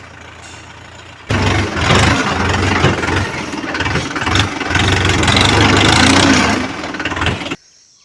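A tractor engine running on the way to a coffee plantation, a loud, close, steady mechanical rumble that kicks in after a quiet start and cuts off abruptly near the end.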